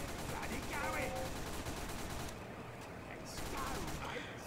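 Team Fortress 2 gunfire clatters in rapid repeated bursts, sharp shots stacked over a busy match background, with a brief lull midway before the shooting picks up again.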